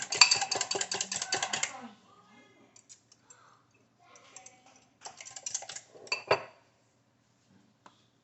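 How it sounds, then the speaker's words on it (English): Rapid metal whisk clattering against a bowl while beating wet ingredients for chaffles, a fast close rhythmic rattle that stops, then resumes briefly in shorter bursts. "whisk them up."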